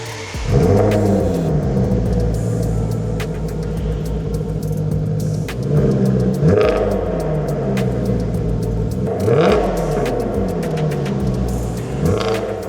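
A Maserati sports car engine revving repeatedly, deep rumbling swells rising and falling several times, fairly close with background noise.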